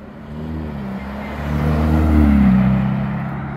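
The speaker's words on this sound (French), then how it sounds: "Ferrari Roma." A Ferrari Roma sports car accelerating at a supercar meeting, its engine swelling from a low hum to a louder, rising rev close by, then tapering off as it passes.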